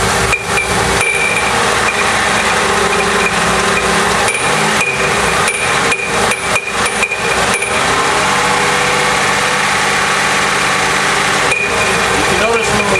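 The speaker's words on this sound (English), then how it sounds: "it sounds like something's clunking inside the engine, and it can kind of sound bad" A car engine revs up and settles again while a knocking clunk sounds from inside it, loud and close, with broadband roar and repeated sharp hits that ease when the revs drop.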